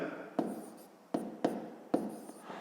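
Chalk or pen taps and scratches out a short math expression on a board, several quick separate strokes and clicks with pauses between them, faint and close in a quiet room.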